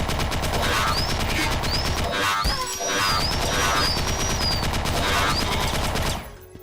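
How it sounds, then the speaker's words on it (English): Bulky 4 gauge shotgun firing in the Cyberpunk video game: rapid, loud, dense bursts of shots with whizzing and metallic ricochet-like tones, one heavy boom midway, then the fire cuts off near the end. "It's a pretty bulky shotgun."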